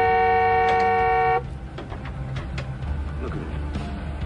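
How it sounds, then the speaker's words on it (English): A car horn blares in one steady, loud sustained honk for over a second on a city street, then cuts off, leaving low traffic rumble and faint clatter. "honk the horn again, please?"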